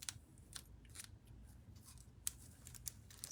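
Scissors snip and crunch at a plastic-wrapped package in a series of quick, crisp, irregular cuts, close and quiet, with no talking.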